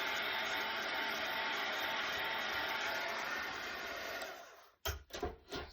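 A heat tool blows hot air steadily over embossing powder on a papercraft project, a loud continuous whooshing hiss that cuts off abruptly near the end, followed by a few handling knocks.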